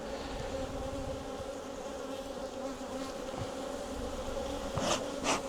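Dense buzzing of a huge colony of honey bees in a busy hive, a steady close drone with individual bees zipping past the microphone.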